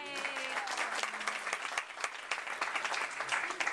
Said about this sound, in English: Give them a round of applause for coming out today